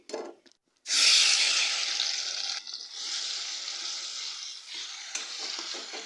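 A ground paste of flat beans, garlic and green chillies hits hot oil in a kadai, bursting into a loud, sustained sizzle after a few soft handling sounds, then continuing as a steady close frying hiss.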